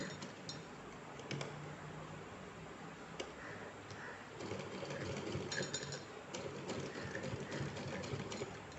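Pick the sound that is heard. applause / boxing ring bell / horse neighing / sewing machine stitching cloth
sewing machine stitching cloth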